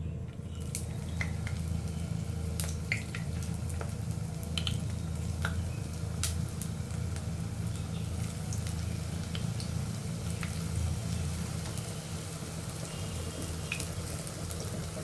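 Potato and flour French fries fry in oil over medium heat with a steady, close sizzle and a dense crackle of small pops that runs unbroken and without talk for about fifteen seconds.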